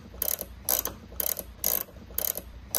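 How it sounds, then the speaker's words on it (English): Stainless steel bolts are tightened on off-road light mounts for a Hyundai Santa Cruz, heard as about six short bursts of metallic ratcheting clicks in a steady rhythm, close and fairly loud, with no talking. "you can just very, very carefully bolt the bolts in, tighten them up"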